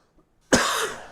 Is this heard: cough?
yes